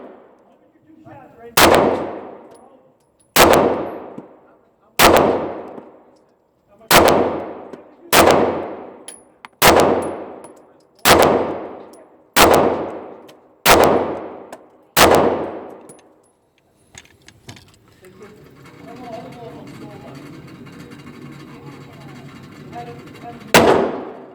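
Steyr M9 pistol fired ten times at a shooting range, each loud sharp report ringing out in a slow, steady sequence, followed by quieter rustling and handling noise.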